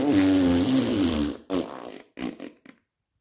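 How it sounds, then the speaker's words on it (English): A long, loud fart with a buzzing tone, followed by a few shorter sputtering bursts that trail off into silence. "The distinctive sound of a bottom burp."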